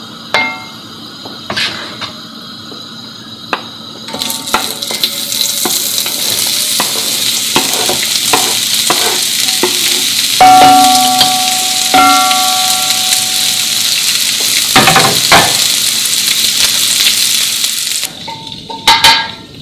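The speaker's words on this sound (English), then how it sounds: "I'm going to cook the onions for 15 minutes on a low heat so they don't brown." A steady, loud sizzle of onions frying in a pan on low heat runs throughout, with occasional scraping and clinks of a utensil stirring.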